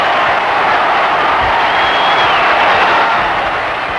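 A big ballpark crowd at Shea Stadium roars steadily after a home run during the 1969 World Series, a dense, far-spread wash of cheering with no break for the whole stretch.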